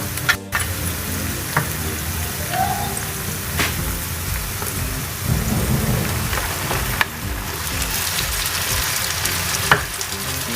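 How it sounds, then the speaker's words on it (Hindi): Tomatoes and green chilies hit a hot frying pan of lightly golden onions for egg anda ghotala, giving a steady broadband sizzle throughout with a few scattered clicks and stirring scrapes, no talking. "अब हम इसके अंदर डाल देंगे टमाटर और हरी मिर्चें।"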